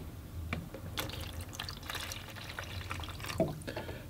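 Clean water poured or running into a container for watercolor painting, a soft continuous splash and trickle close by, with a few brief drips and clinks.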